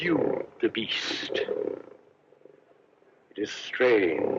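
A lion gives a loud, close roar in two bursts separated by a quieter gap, the growling tone rising again at the end with no speech over it.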